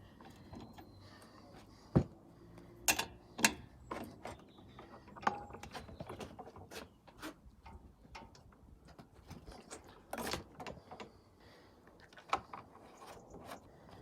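Socket wrench on a 3/4-inch (19mm) socket working on a John Deere JX85 walk-behind mower, giving scattered metallic clicks and ratcheting bursts with sharp knocks between quiet stretches, close and moderately loud.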